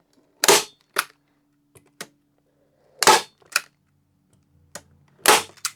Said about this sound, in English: So like I said, I'm going to staple it up high.